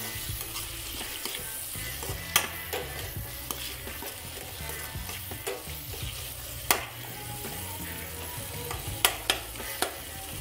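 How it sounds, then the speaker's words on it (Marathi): A spoon stirs a chili- and turmeric-spiced capsicum masala in a pan, scraping steadily over a soft continuous sizzle, with a few sharper metallic clinks of the utensil against the pan. "2 चम्मच तिखट, आणि हे मी चांगल्या प्रकारे मिक्स करून घेत आहे"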